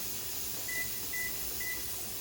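Three short, faint electronic beeps from a kitchen timer at an even pace over a steady background hum during home canning.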